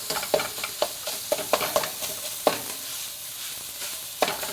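A spatula repeatedly taps and scrapes a pan in an irregular rhythm, breaking up sausage as it sizzles steadily underneath.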